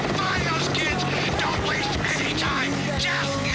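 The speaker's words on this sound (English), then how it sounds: "they are sending police helicopters after me" A police helicopter in the Jet Grind Radio video game gives a constant loud rotor thrum and whir under fast game action, with someone talking over it.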